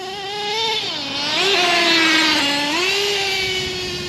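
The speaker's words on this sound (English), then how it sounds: "I love the sound of nitro, the smell, the smoke it puts out," A Traxxas T-Maxx nitro RC truck engine revs up and down, its high buzzing whine climbing and falling in pitch across several throttle blips, loud and close, with no talking.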